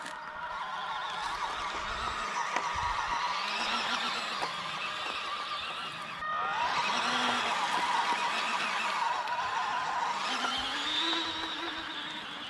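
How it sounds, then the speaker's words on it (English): A cheap 1/16-scale Fayee FY004A RC Oshkosh HEMTT 6x6 military truck with a 180 motor and all-metal gearbox drives about, its electric motor whining up and down in short bursts against a gritty background. "So this thing looks like it's got plenty of power, so it's definitely a 180 motor in there"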